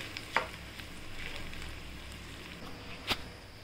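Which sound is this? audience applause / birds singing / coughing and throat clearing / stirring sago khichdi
stirring sago khichdi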